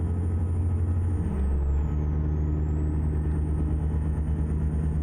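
A mildly modified Cat 3406 diesel in a Ford LTL 9000 logging truck, simulated in American Truck Simulator, drones loudly and steadily with a deep rumble, its pitch dipping briefly and then settling back.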